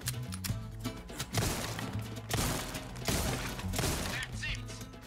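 Gunfire in the video game Resident Evil 4 comes as a few loud, punchy bursts with thumping impacts spread over several seconds, with game music or ambience underneath.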